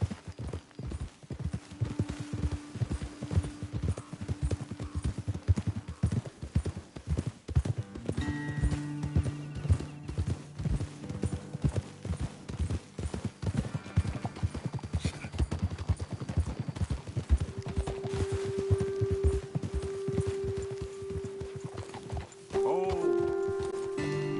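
In the video game Red Dead Redemption 2, steady clip-clop of horse hooves on hard ground throughout, with a horse snorting and whinnying partway through, a soft tone humming in the background.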